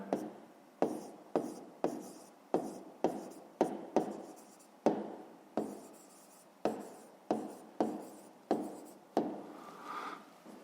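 Pen on paper while writing out a fifth-grade math solution, a quick sequence of close, crisp strokes and taps in an even rhythm, heard without talk.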